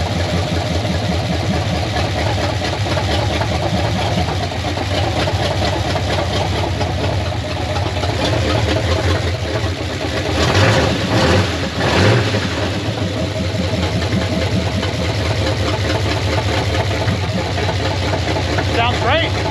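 An old Chevy squarebody truck engine with a rebuilt carburetor idles steadily and close by, a continuous rumble with a brief swell partway through.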